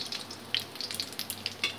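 Ginger fries in a pan for a Bengali mixed vegetable curry, with faint, scattered crackles and soft sizzling up close.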